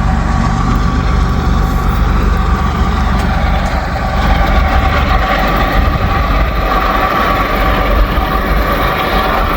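Trains rip past at Walton, a loud, close, continuous rumble of heavy rail traffic with deep low-end roar and grinding wheel noise sustained for nearly ten seconds, no voices.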